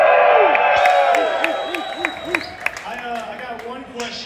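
Party crowd at a game studio's release event cheering and whooping loudly at first, the roar fading over a few seconds into scattered shouts and claps.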